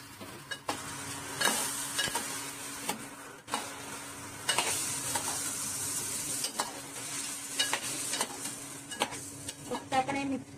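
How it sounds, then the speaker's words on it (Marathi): Okra stir-fried in a pan, a steady sizzle broken by repeated scraping and stirring strokes with occasional clinks of a utensil, heard up close with no talking. "भेंडी परतवली मग ही गुटाळी करतोय"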